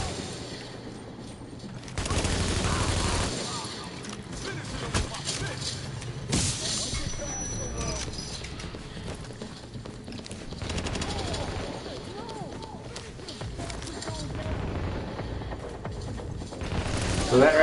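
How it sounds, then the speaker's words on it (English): Gunfire bursts and an explosion from the shooter video game The Division, with rapid automatic fire and heavy blasts in a dense, loud mix over fairly steady background noise. "let's go ahead and throw a grenade."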